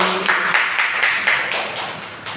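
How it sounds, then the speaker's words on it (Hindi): A church congregation claps loudly in unison, a rapid steady run of sharp claps filling the room for a couple of seconds. "जोरदार ताली बजाओ एक बार"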